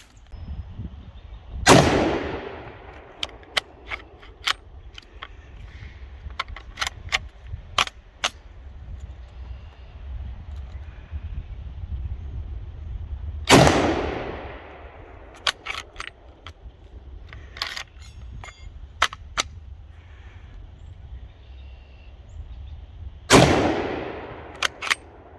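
Carcano rifle fired at a 100-yard target, three sharp loud shots spaced about ten seconds apart, each with a short echoing tail, with faint clicks and handling noises between them.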